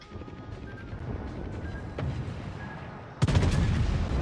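Guns of the French battleship Bretagne fire in a naval video game: a steady rumbling din of gunfire, then a sudden loud, sharp salvo that stays heavy and booming to the end.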